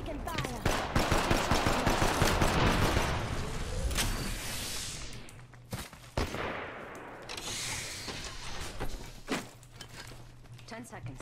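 Gunfire in Apex Legends during a ranked match, loud dense bursts of automatic shots with sharp cracks, heard under a voice calling out as he comes under fire.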